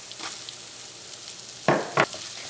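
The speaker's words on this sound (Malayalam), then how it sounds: "ഇനി നമുക്ക് ഈ സവാളയെ നമുക്ക് എണ്ണയിലിട്ടിട്ടൊന്ന് വഴറ്റാം." Sliced onions are added to hot oil already holding ginger-garlic paste for a Kerala cauliflower curry, giving a soft ongoing sizzle with two louder bursts of stirring and frying near the end; no one speaks.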